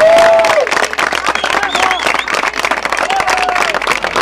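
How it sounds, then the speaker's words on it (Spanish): Applause from a crowd gathered outdoors for an election poster-hanging event in Icod, steady clapping with some cheering and whistles, while a voice talks over it. "Aplausos de todo el público que se ha congregado aquí."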